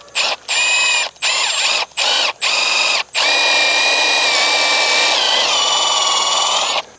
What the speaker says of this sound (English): So I think what I'm gonna do is drill it the other way.